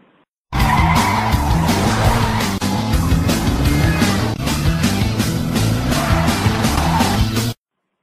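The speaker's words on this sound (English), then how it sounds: "Kevin and his mother help Cindy enter to their car. Then they go to the nearest midwifery clinic around there." A car heading to a nearby midwifery clinic gives a loud, close run of screeching tires and engine noise lasting about seven seconds, starting and stopping abruptly.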